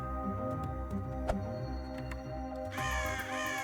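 Crows caw in a video game, several harsh, clear calls over a constant droning, musical game background, moderately loud, with a brighter rising tone entering toward the end.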